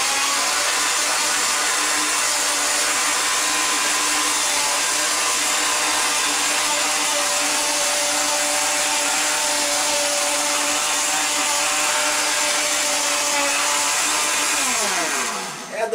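A blender whirs continuously as it mixes a whey protein shake, a loud, steady motor drone with high whine holding for about fifteen seconds before winding down at the very end.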